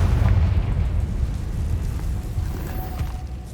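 In Hogwarts Legacy on PS5, a Confringo fire spell goes off as a deep, rumbling explosion boom that swells at the start and then slowly fades away.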